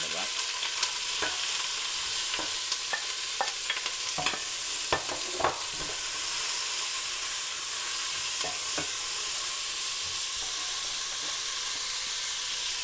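Sliced large onions and slit green chillies fry in a pan for mutton biryani, giving a constant bright sizzle. Sharp spatula clicks and scrapes come through the hiss, mostly in the first half.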